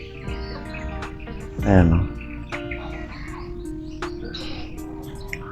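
Pigeons and other birds in Davao People's Park chirp in short, close calls over background hum, with a voice speaking briefly partway through.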